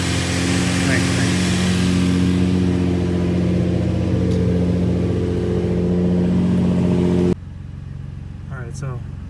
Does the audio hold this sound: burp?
no